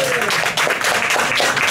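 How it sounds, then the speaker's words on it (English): Bar audience at a Plymouth Barbican ukulele night applauding to welcome a performer, a short burst of close, dense clapping with a voice over it. "No, that's Jerry's only round of applause."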